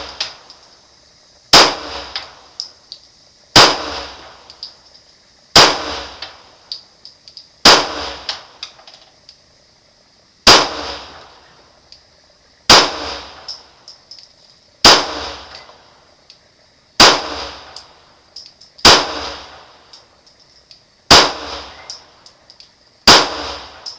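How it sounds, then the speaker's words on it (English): Eleven evenly spaced gunshots from a Glock Gen4 pistol fitted with a 40S&W-to-9mm conversion barrel, fired at targets about 25 to 30 yards away, each a sharp, loud crack with a brief ringing tail, about two seconds apart. "So just take a few more shots so you can see some reliability."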